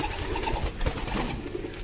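Fantail and Shirazi pigeons in a loft, cooing softly amid steady background noise, a low murmuring coo close by for a couple of seconds.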